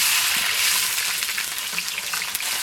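Garlic cloves frying in hot oil in a wok give a loud, dense, continuous sizzle and crackle close by, with faint stirring beneath and no voices.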